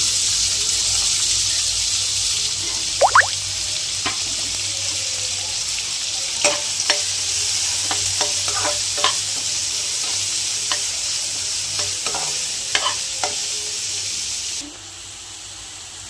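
Two medium onions fry steadily in hot oil for channa masala, a continuous sizzling hiss with occasional stirring clicks and scrapes, close up, with no talking.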